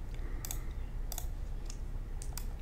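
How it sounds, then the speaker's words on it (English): Computer mouse clicks in repeated shift-and-click selecting, crisp sharp taps in small pairs and singles spaced across the stretch over a low steady room hum, with no talk. "Shift and click, shift and click."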